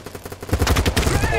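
Rapid automatic gunfire in a first-person shooter game, a dense, loud rattling stream of shots that builds and continues steadily, with voices of players faintly underneath.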